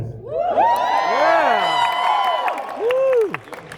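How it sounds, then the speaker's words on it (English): A fan expo crowd in Denver, at a Q&A with the actor who plays Captain Hook in Once Upon a Time, breaks into high excited screams and whoops, loud and sustained for several seconds. "I knew everybody was going to scream."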